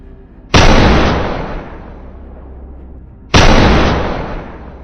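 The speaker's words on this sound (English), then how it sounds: "A sharp shot rang out, sending the prey into eternal sleep without a warning." Two loud rifle shots a few seconds apart, each a sharp crack followed by a long rolling echo that fades across open ground.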